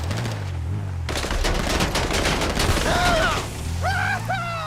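Gunfire in GTA 5 Online, a dense burst of rapid shots and booms crackling for a couple of seconds, then easing into rumbling engine and rising whistle-like tones, loud and close.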